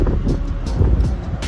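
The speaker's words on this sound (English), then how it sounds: "Excuse the noise in the back if you hear like a lot of" Steady low rumbling wind buffeting a microphone outdoors, with gusty surges and no clear talking.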